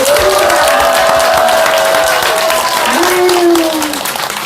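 Church congregation applauding a singer at a worship service, a loud, steady wash of clapping with a tonal voice or instrument line sliding beneath, tapering slightly at the end.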